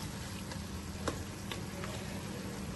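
Chicken karahi frying in a wok-like karahi pan, a dense, even sizzle throughout with a few faint clicks of stirring, no one talking.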